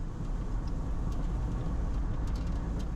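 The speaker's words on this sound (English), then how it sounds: "Yep, the truck is catching up." Steady low rumble of road traffic heard from inside a moving vehicle on an Oregon, Wisconsin road, with a truck approaching from behind as a continuous engine and tire drone.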